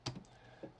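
Rapid keystrokes on a computer keyboard, a couple of sharp clicks close by with quieter taps between, alone with no talking.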